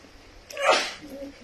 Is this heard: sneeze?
yes